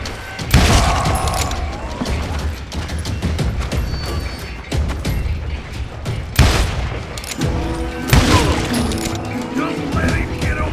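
Rapid bursts of gunfire and booming impacts from a Western-style game shootout, loud and close, repeating in clusters over a continuous din of action and mechanical clatter.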